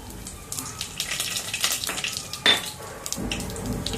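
Cumin, mustard seeds, curry leaves and whole spices crackle and hiss in hot oil for a chickpea curry, a watery spattering sizzle with a sharp burst midway and faint background sounds.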